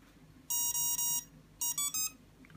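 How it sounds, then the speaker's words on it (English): An Emax 12 amp ESC driving a Cobra 2204 motor plays its startup tone: two short bursts of loud, high electronic beeps, three steady tones and then three rising tones, heard close against a quiet background. "we got startup tone."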